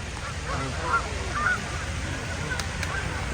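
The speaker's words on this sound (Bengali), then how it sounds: "দেখুন কত পাখি শত শত পাখি" Geese honking now and then at a pond in the United States amid a steady wash of outdoor noise, a few scattered calls from a flock at moderate distance.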